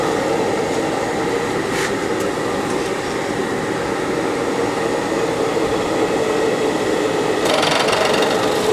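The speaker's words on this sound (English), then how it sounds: "let's take a skim pass, we'll take it out, we'll measure it" A milling machine takes a light skim pass on a rectangular block, a steady, loud mechanical whir with a few short scraping bursts.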